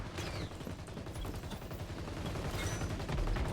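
Continuous rapid fire from an ACR rifle loaded with fire bullets in the shooter game XDefiant, a steady loud crackling burst of shots running throughout with no talking.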